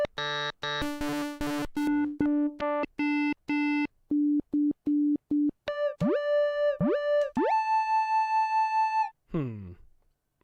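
A Pocket Operator pocket synth plays lead sounds from its lead 2 folder: rapid bright beeping staccato notes, then gliding pitch-bent tones and a sustained held note, closing with a short noisy burst.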